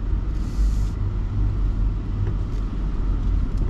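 Engine and tyre rumble from a VW Touareg R plug-in hybrid SUV driving off-road through sand in Sardinia, a steady loud low drone with no pauses.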